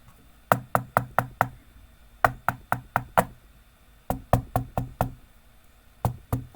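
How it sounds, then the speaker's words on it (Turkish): Knuckles rap on a door in four quick rounds of about four to five knocks each, crisp and close against a quiet room, with short pauses between the rounds. "Kapıyı çalıyorum hala açmıyor."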